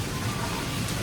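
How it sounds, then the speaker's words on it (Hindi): Heavy rain falls steadily during travel to Islamabad near Lake View Park, a dense, even hiss with no breaks, loud and close throughout. "ज़बरदस्त किस्म की बारिश हो रही है जी"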